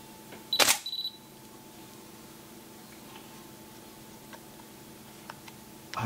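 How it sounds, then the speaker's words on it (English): Canon 5D Mark III camera shutter in single-shot mode, one crisp mechanical click-clack near the start, close and clear, followed by quiet room tone. "Some people have asked about the shutter sounds on the 5D Mark III camera, so I'm just going to show you how it sounds."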